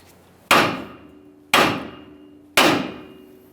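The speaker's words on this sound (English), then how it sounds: "I'm going to lightly tap on this area with a hammer." Three sharp, loud metal hammer blows land about a second apart on the steering knuckle of a 2015-2020 Ford F-150 to loosen the ball joint. Each strike rings briefly and decays, with no talking.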